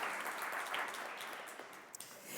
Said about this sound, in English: do applaud them